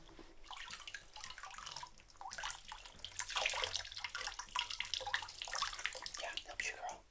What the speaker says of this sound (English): let me just get a little more water